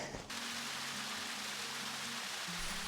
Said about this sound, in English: Okay, it started to rain again.